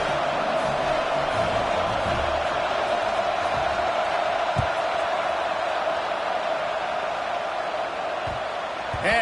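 Football stadium crowd after a scored touchdown: a dense, steady roar of many voices carries throughout, with occasional thumps and shouts beneath it, and a commentator's voice rides on top of the crowd.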